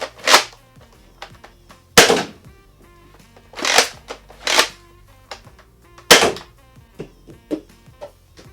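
A Nerf Rival Hypnos shotgun-style foam ball blaster fires a series of loud, sharp thwacks at uneven intervals, each followed by brief mechanical clicks and rattles of the priming action, close up with no talking.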